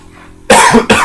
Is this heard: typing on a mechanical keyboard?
no